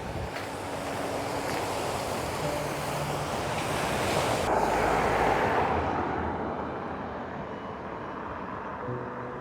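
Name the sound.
waves on the coast at Aberdeen Beach, Scotland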